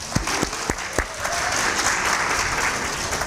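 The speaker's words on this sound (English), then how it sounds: "give yourself a hand clap." A church congregation applauds on a bright morning service, a few sharp isolated claps at first swelling into steady, dense clapping from many hands that fills the room.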